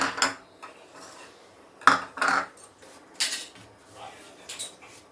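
Corn flour, semolina and rice flour being mixed together in a bowl: short, irregular scraping and clinking strokes of a utensil against the bowl, close and moderately loud, with quiet gaps between.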